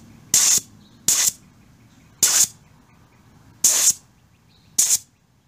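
Freeman digital tire inflator relief valve venting air from an overinflated tire: five sharp, close hissing bursts, each about a quarter second, spaced roughly a second apart, with quiet between.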